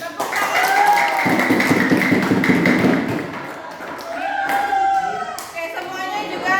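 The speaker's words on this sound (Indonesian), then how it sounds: "Tepuk tangan." Pupils in a classroom clap together, a burst of dense, rhythmic applause lasting a couple of seconds at close range, mixed with thuds, while a teacher's voice is heard around it.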